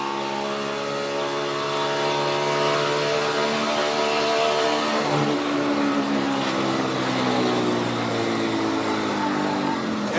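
Onboard sound of Clint Bowyer's NASCAR stock car at the 2013 Auto Club 400, a loud continuous engine roar with harmonic tones sliding up and down through shifts and throttle changes, close and dominant throughout.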